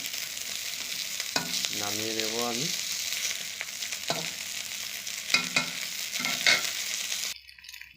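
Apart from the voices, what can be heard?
fish frying in oil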